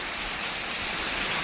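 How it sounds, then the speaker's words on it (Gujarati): Heavy rain pours down steadily on a rainy day, a dense, even hiss of drops on surfaces that stays constant and fairly loud throughout, with no voices. "જોરદાર વરસાદ ચાલુ છે."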